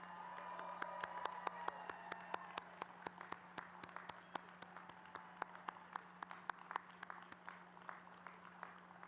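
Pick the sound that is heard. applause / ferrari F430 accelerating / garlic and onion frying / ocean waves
applause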